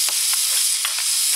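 A wood gasification stove burning during a field test, giving a constant loud roaring hiss with a few faint clinks or scrapes breaking through it, no talk.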